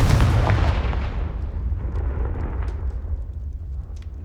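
A fire spell in a video game bursts into a loud, close explosive boom, its heavy low rumble and crackle fading away over about four seconds.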